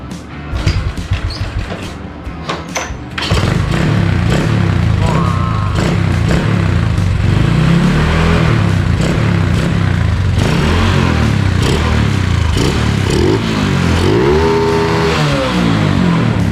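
A Honda Chaly motorcycle with a 125 engine and a tuned carburettor, running and revving close by. It idles roughly at first, then holds a loud, throaty roar with repeated rising revs.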